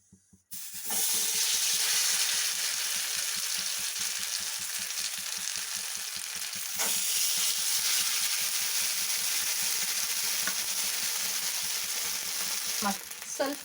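Food sizzles steadily in hot oil in a pan, a loud, dense crackle that starts abruptly and carries on without a break, with no talking.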